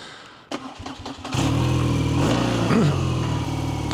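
BMW R nineT motorcycle fitted with an Akrapovic exhaust starts up and pulls away, a few sharp clicks and blips leading into a loud, close, rumbling engine note that rises as it rides off.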